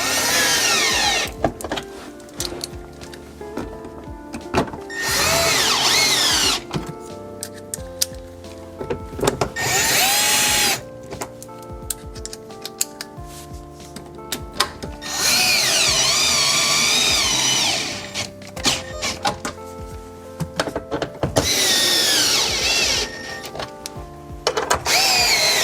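A power drill tightens 10 mm bolts on a Lexus LX in several loud, close whirring bursts separated by short pauses.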